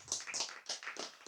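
Sparse, rhythmic claps from an audience at an Indonesian religious talk, a few distinct bursts in quick succession, fairly quiet and without voices over them.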